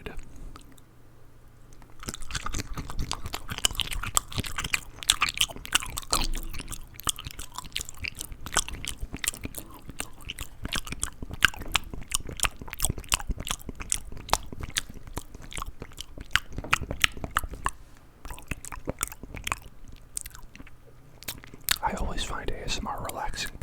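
Crunchy cashew nuts are chewed close to a microphone in long, dense bursts of crisp crunching and wet mastication, with soft whispering mixed in for most of the stretch.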